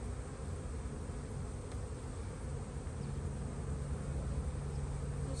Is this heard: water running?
no